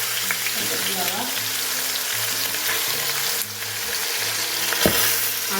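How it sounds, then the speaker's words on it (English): Chicken biryani sizzles loudly and steadily in a hot pan, with a faint clink or two of stirring. "That feels like it's sizzling quite a lot."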